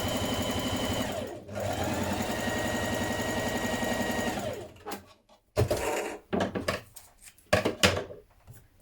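A sewing machine running a long continuous ease stitch around the top of a dress sleeve for several seconds, then stopping and giving a few short stuttering bursts and clicks, close and clear.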